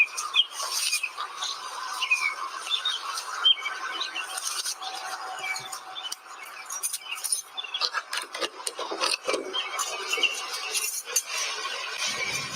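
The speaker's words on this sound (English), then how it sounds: "Those Minnesota birds are sure loud for 5 in the morning." Several Minnesota birds chirp and tweet outdoors at five in the morning, a busy overlapping chorus of bright calls, moderately close, mixed with occasional rustling and scraping noises, with no talk.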